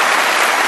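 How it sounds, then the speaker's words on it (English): A studio audience at a late-night comedy show applauds, a brief, loud, continuous roar of many clapping hands. "I hope that applause is for my mom."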